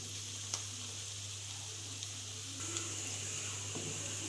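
Onions frying on a medium flame: a quiet, steady sizzle under a constant low hum, with a couple of soft clicks of a utensil against the pan.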